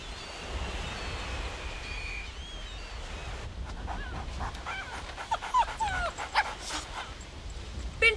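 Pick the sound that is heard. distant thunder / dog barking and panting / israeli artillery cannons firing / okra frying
dog barking and panting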